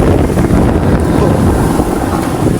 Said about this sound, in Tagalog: Lakas ng ugong ng makina.